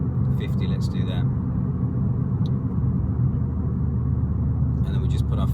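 An Abarth 595 hatchback accelerates at full throttle with a steady, loud engine drone and road rumble heard from inside the cabin, while people talk briefly over it.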